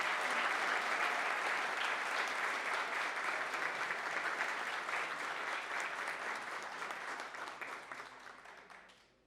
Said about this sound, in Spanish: Un fuerte aplauso para la ministra.